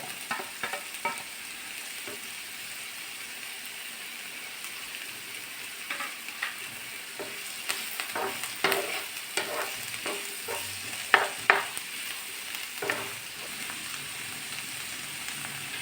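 Papaya pieces frying in a pan with garlic and curry leaves, a soft continuous sizzle broken by scraping, clinking strokes of a spatula as the mix is stirred, growing busier toward the end.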